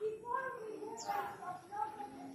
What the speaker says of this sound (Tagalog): May ibon pa.